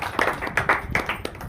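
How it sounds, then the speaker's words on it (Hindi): Applause from an audience at an IMC business meeting in Badagaon: a short burst of scattered hand clapping with uneven taps, fairly close and moderately loud, with no talk over it. "ताली होनी चाहिए सर।"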